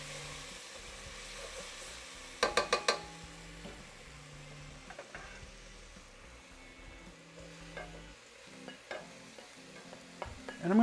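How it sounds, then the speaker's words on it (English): Onions and beef sizzle steadily in olive oil in a pan for chili while a utensil stirs and scrapes, with a few sharp clinks against the pan along the way. "Stir up our onions."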